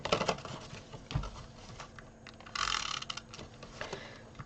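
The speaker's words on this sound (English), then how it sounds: "So I'm just going to pop a wee bit of tape runner along this one." A tape runner rolls adhesive along the edge of paper for a milk carton bath bomb holder, giving close clicky ratcheting ticks and a short burst of dry rasping, fairly quiet with no talking.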